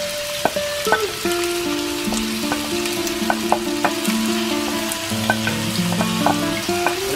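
Onions and garlic hit very hot oil in a pan, producing a loud, steady sizzle with scattered pops and stirring noises, close and uninterrupted by speech, with faint music behind.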